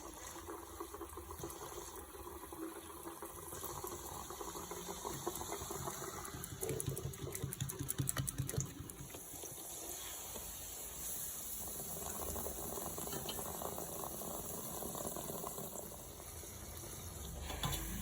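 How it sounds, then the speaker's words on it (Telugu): Sweet appalu (bellappalu) dough frying in hot oil for a Diwali sweet, giving a steady, busy crackling sizzle with rattling bubbling that continues throughout at close range, with no talking. "చూడండి, ఈ విధంగా ఫ్రై చేసుకోవాలండి"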